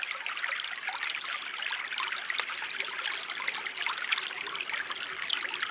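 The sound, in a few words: creek water filling a 2-liter bottle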